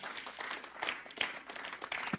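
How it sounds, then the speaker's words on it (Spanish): A church congregation giving applause to the Lord during a Spanish-language service, faint scattered clapping over about two seconds with no talk. "Dale un aplauso al Señor."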